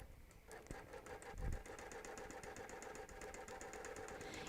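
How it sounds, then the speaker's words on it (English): Sewing machine stitching quilt basting at a steady fast rhythm, moderately close, running continuously after a brief start with a low thump near the beginning. "So I've basted up the left side. I'm basting across the top."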